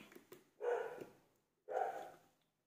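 A dog barks twice indoors, each bark a full, fairly loud burst with a short tail, spaced about a second apart in an otherwise quiet room during a nail gel application session.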